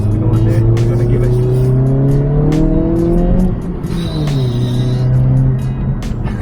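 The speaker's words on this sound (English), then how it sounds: "if you have a sports car, you gotta hear the exhaust" A 2022 Honda Civic Si drives hard through a turn, its engine and exhaust droning loud and steady as the pitch climbs, dips mid-corner, then rises again, with tire noise and talk from inside the car over it.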